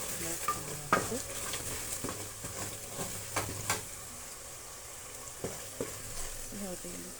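Spices for Kenyan pilau frying in a pot, a soft continuous sizzle punctuated by sharp scraping and knocking strokes of a spoon against the pot, close up and without speech.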